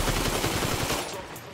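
Rapid automatic gunfire in Grand Theft Auto V Online, a dense, loud rattle of shots close by that eases slightly toward the end of the short burst.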